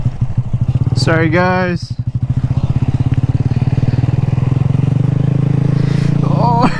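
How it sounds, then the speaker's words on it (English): Honda Grom motorcycles riding off-road, a close engine putter with a throbbing idle rhythm and a brief rev, while a person speaks briefly over it. "we're off-road with the Grom, boys"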